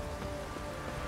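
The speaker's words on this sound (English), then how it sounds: "Pouring down with rain, thunder, lightning, very grim, very miserable." Rain pours down steadily in the video game The Witcher 3: Wild Hunt, a continuous dense patter with no distinct thunder clap during this brief moment.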